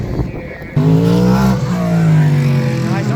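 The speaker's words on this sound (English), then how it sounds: "Safety car coming out." Race cars at the IMSA Petit Le Mans in 2023 roar past turn 10 as the safety car comes out, engine notes rising and falling loudly and close, with a commentator's voice over the top.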